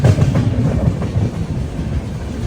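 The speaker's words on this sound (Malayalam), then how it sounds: "ട്രെയിൻ ഇപ്പോൾ നെല്ലൂരിലേക്ക് എത്തിയിരിക്കുകയാണ്." Grand Trunk Express arriving at Nellore station in light rain, a steady rumbling roll of railcars with rhythmic clickety-clack of wheels on track, loud and close from inside the train.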